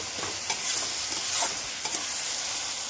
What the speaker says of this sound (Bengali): নুন দিলে পেঁয়াজ তাড়াতাড়ি গলে, পেঁয়াজটা একটু ভাজা ভাজা হবে